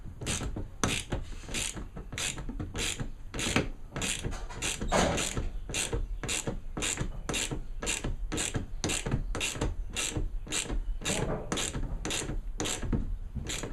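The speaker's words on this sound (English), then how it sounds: "And we're going to hold this with the wrench," A wrench ratchets repeatedly while tightening the bolt of a Sprinter van side door grab handle, a steady train of quick clicking pawl strokes close by with no talk.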